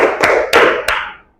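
Three hand claps in a steady rhythm ring out in an echoing classroom, crisp and close, with reverberation carrying over between them.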